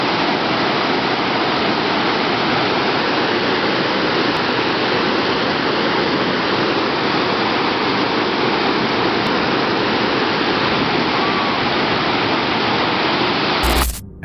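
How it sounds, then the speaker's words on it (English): A waterfall roars in a constant, dense wash of falling water, loud and unbroken from start to finish, with no voices over it. "the cheerful sound of the waterfall seemed to carry a strange"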